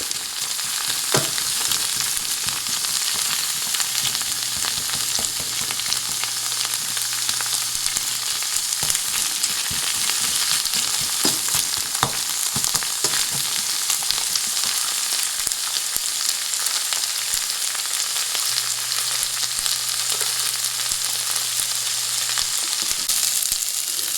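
Sliced onions frying for a Bengali fish curry, a steady close sizzle with occasional scrapes and clicks as a spatula breaks them up, continuing without pause and with no talking.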